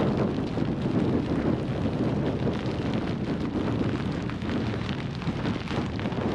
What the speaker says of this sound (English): It's been a constant 30 mile an hour wind with gusts exceeding 40 miles an hour so far.